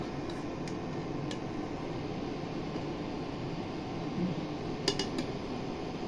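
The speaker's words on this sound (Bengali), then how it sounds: "এবার এগুলোকে তুলে ফেলবো।" Boiled meatballs are scooped out of a cooking pot with a few sparse, light metallic clinks of utensil against pot over a quiet kitchen background.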